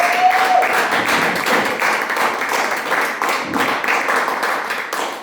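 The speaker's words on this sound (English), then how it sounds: "Right now we are giving a round of applause and appreciation to the leadership of this house" A church congregation gives a round of applause, steady mid-distance clapping from many hands filling the hall in an even, continuous wave.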